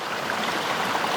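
Woodland stream in Goyt Valley flowing over rocks, a continuous close rushing and burbling of water, steady and fairly loud with no voices.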